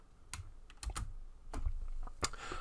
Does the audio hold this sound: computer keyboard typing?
yes